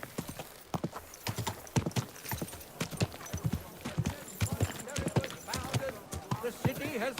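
Horse hooves clip-clop in a steady, close trotting rhythm in the video game Kingdom Come: Deliverance II, with a voice speaking over the hoofbeats.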